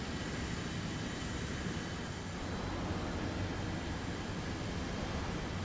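An F-84F jet aircraft flying in the War Thunder video game produces a steady, even engine roar that holds without a break for several seconds, with no voices.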